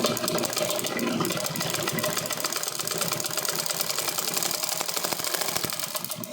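Steady rapid mechanical rattle of a sewing machine stitching shorts made from old pants, running continuously and close throughout with no talk.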